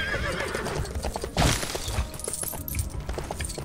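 A horse in the Lego Lord of the Rings video game gives one loud, close whinny midway, over hoof clip-clops and busy game sound effects.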